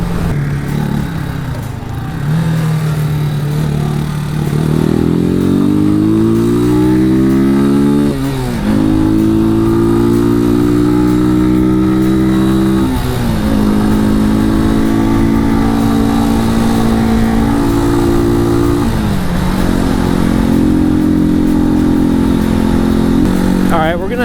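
A Janus Motorcycles Phoenix 250 on a ride, its small single engine droning loudly and rising in pitch through repeated gear changes, each shift dropping the note before it climbs again under steady wind.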